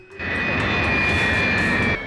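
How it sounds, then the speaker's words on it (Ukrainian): Concorde jet airliner flying a display at the 1973 Paris Le Bourget air show, a loud, steady roaring engine drone with a high whine that swells in and holds for about two seconds. "Спочатку Конкорд виконує яскраві фігури в небі."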